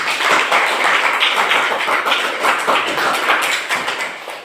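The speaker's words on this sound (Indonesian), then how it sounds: "ayo beri aplaus untuk kami" An audience claps together in applause, a dense, fast patter of many hands close by that holds steady for several seconds before easing slightly at the end.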